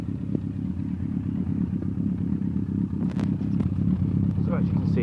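Suzuki GSX1400 K3 motorcycle idling with its exhaust baffles removed, a steady low rumbling engine close by, and someone speaking briefly near the end.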